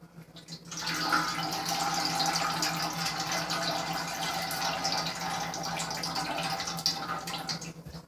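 Grape juice from about twelve pounds of grapes pours steadily into a pot, a soft continuous splashing stream that starts after a brief pause and carries on to the end.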